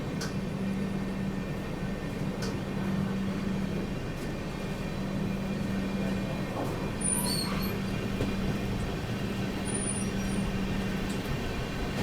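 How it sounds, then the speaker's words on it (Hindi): Passenger train pulling away from Ramganj Mandi Junction after dark, a steady low rumble of rolling wagons with a faint hum throughout, no voices. "अपनी ट्रेन निकल चुकी है रामगंज मंडी जंक्शन रेलवे स्टेशन से भी"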